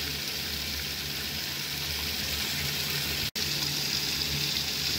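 A 1960 Frigidaire Custom Imperial Multimatic washing machine fills with water, a steady broadband rushing hiss that runs nearly unchanged throughout, broken once by a split-second dropout.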